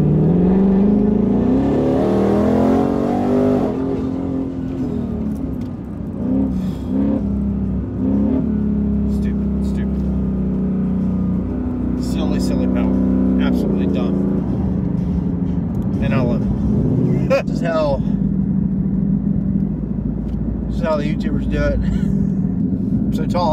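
A twin-turbo 2019 Mustang GT running E85 accelerates hard on the street, a loud, close engine note climbing steadily in pitch through the gears, heard from inside the car.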